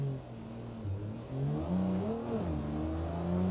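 A 1978 truck with an inline-six engine accelerates in the BeamNG Drive driving game, its simulated motor droning and rising through the revs with audible pitch steps as it pulls away, loud and continuous with no voices.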